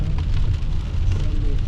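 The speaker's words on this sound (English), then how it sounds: "I'd love to check them out, but it's just pouring rain." Heavy rain pours down steadily in rural Kentucky hollers, a dense, close hiss with no voices.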